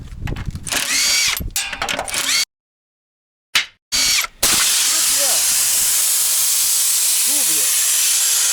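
A power tool spins off bolts during cheap body straightening on a Hyundai Accent, loud close whirring bursts broken by brief silences, then a long steady hiss with faint squeaks and tonal chirps.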